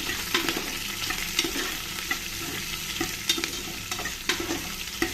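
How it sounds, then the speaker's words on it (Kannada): Green chillies, curry leaves and onions are stirred in a pan, with repeated spatula scrapes and knocks over a constant close sizzle of frying, loud and busy throughout. "ಇದನ್ನೆಲ್ಲ ಒಂದು ಸ್ವಲ್ಪ ಚೆನ್ನಾಗಿ ಮಿಕ್ಸ್ ಮಾಡ್ಕೊಳ್ತೀನಿ"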